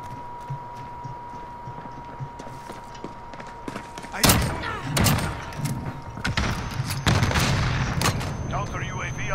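Shotgun blasts in a Call of Duty Modern Warfare match, several heavy booming shots with irregular spacing over game sounds, and voices are heard through much of it.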